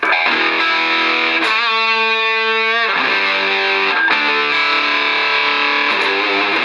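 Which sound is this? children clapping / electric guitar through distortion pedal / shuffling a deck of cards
electric guitar through distortion pedal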